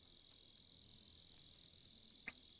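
Crickets chirping in the video game Project Zomboid, a faint steady high-pitched trill held throughout with a few soft ticks, no talking.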